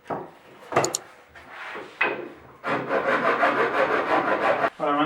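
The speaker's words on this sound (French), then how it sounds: "je vais limer donc l'intérieur des encoches" A rasp or file works inside notches cut in beech wood for a miller's ladder, a few short scrapes giving way to a long run of rapid rhythmic rubbing strokes, close and fairly loud.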